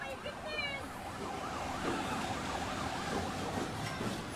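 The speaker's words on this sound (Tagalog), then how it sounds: "Yung bumbero yan." A fire truck siren wails, rising and falling steadily, moderately loud over busy outdoor background noise at a fire in Pateros, Philippines, with some faint voices nearby.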